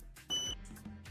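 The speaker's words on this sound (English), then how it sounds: "I think the fire alarm is going off in this household." A household smoke or fire alarm sounds in short, steady high-pitched tones over a low background hum.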